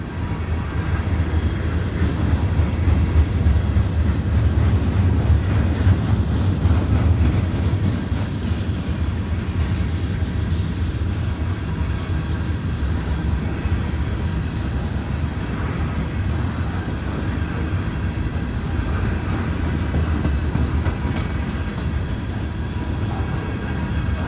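A CN freight train of gondola cars passes at night alongside CP auto racks, producing a continuous loud low rumble and rolling clatter that swells early and then holds steady for over twenty seconds, with no voices.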